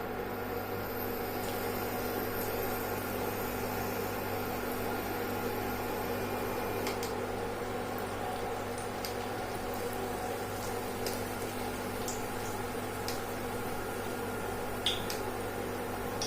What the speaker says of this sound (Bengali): এখন দিয়ে দিচ্ছি তৈরি করা বড়াগুলো তেলের মধ্যে।